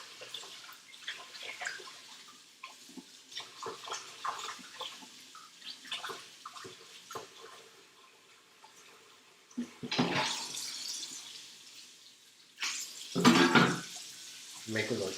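Tap water runs into a kitchen sink to make dishwater, with two loud rushing bursts late on after a stretch of quieter kitchen clatter and some talking.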